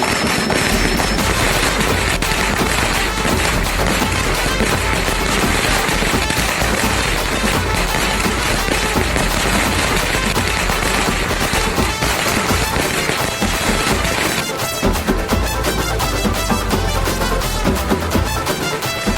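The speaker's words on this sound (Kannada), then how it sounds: "ಜೈಕಾರ ಏನು, ಪಟಾಕಿ ಹೊಡಿಯೋದೇನು" Firecrackers burst continuously in a dense, loud, crackling barrage at a crowded celebration welcoming someone home, with rapid pops and bangs running throughout.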